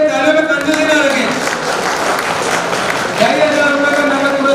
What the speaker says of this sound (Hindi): प्लीज चैंपियन के लिए तालियों में कंजूसी ना रखें